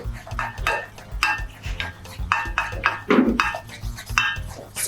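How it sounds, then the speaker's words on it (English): A spoon stirs potash gradually into palm oil sauce in a metal pot for Igbo chicken nkwobi, scraping and clinking in a steady rhythm of close, distinct strokes with no talk. "You are adding this potash gradually. Then you stir."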